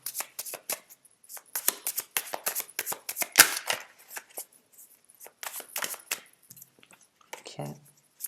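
Tarot cards shuffled and cut by hand, a close run of rapid riffling flutters and soft slaps in uneven bursts, with a brief murmur of talk near the end.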